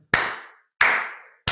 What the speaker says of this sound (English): I'm clapping to the beat of jamming